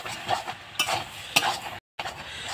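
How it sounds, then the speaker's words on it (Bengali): Spices with coriander powder stirred in a cooking pan, a few quick scraping strokes over a light sizzle, broken by a short silent gap. "এবার আমি ভালো করে মিশিয়ে নেব"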